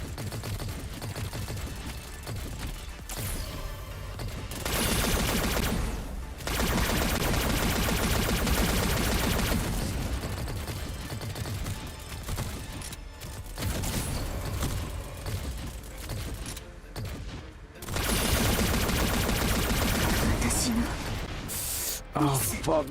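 Sniper and other gunfire in the mobile game Girls Frontline, bursts of shots and rattling volleys that come and go over dense game music and effects, with a voice talking through parts of it.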